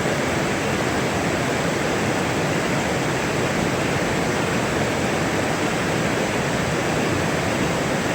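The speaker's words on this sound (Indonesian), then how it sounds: "Melihat batu besar ini, sepertinya tempat yang sangat cocok untuk menikmati aliran sungai." A river rushes past large rocks at the Kali Jompo plantation in Jember, a steady, dense broadband roar of flowing water that stays constant and fairly loud throughout, with no voices.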